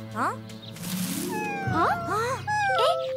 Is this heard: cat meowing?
yes